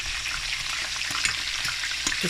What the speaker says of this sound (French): prenez un morceau de viande, puis vous mettez dans l'huile